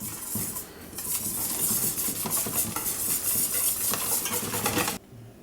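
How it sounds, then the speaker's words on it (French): A spoon or whisk mixes a flour and baking powder batter in a bowl, brisk continuous scraping and clinking against the bowl, close and busy, stopping abruptly near the end. "Et là, je mélange."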